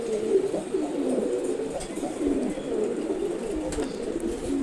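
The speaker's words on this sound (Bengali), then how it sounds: "খুবই অ্যাক্টিভ একটা নট কবুতর" Continuous low cooing from an active Nat pigeon, a domestic pigeon in a loft kept for pairing. The calls roll on in steady overlapping waves, close and moderately loud, with no talk.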